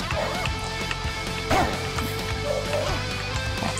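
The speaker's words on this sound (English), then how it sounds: "I think I hear dogs barking in the background" Dogs bark a few times somewhere in the background, sharp yips and bow-wows breaking through steady game music with a thumping beat.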